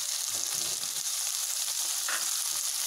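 Okra sautés with pepper powder and coriander powder in a hot pan, giving a dense, continuous sizzle close up with a brief stirring scrape partway through.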